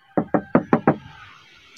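The middle door of a 1994 Daihatsu Zebra 1.3 is handled with five sharp, evenly spaced knocks close by, followed by a faint, quiet hiss and no talking.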